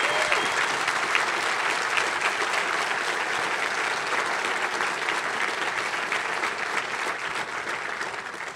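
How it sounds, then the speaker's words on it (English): Gala audience giving a long, steady round of applause for a military spouse, dense clapping from many hands filling the room, gradually tapering near the end. "let's please give her a big round of applause"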